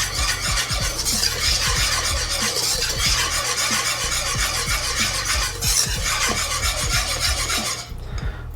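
Herbs stirred into a sauce in a pan over low heat, with repeated scraping and rubbing strokes over a steady bubbling hiss, close and continuous.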